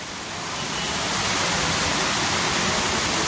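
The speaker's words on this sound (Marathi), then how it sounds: "बघा बाहेर कसा मस्त पाऊस पडतोय, मुंबईचा पाऊस" Unseasonal Mumbai rain falling outside, a dense, even hiss of steady rainfall that swells slightly at the start and then holds constant.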